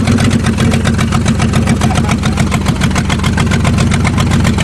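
A 1998 Ford truck engine runs rough after a cold start, missing on some cylinders, with a loud steady throbbing idle and a fast pulsing beat close by.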